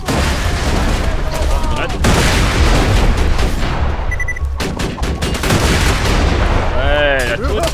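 Turret gunfire in the shooter Borderlands 2, dense and loud bursts of shots with booming impacts running almost nonstop, under a busy game soundtrack and some talking.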